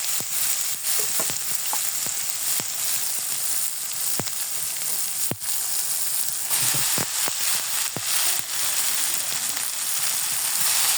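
Chicken noodles frying in a pan with spices, a steady close hiss of sizzling with scattered scraping clicks from stirring, no voices.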